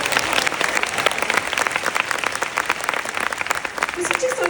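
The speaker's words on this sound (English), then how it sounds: "Give him a big round of applause." Convention panel audience gives sustained applause, a dense even wash of clapping from a crowd, with a brief voice near the end.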